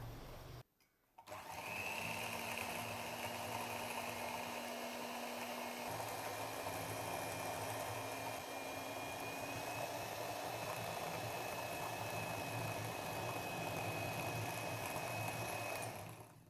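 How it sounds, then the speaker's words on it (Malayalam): An electric hand beater fitted with a single hook runs at steady speed through a mixture, giving a continuous whirring motor hum after a brief pause at the start. It stays close and even to the end. "നമുക്കിത് ബീറ്റ് ചെയ്തെടുക്കാം"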